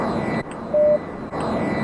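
Airplane engine in a flight video game during an airshow run, a loud continuous drone filling the whole stretch, with two brief dips and a short steady tone layered in the middle.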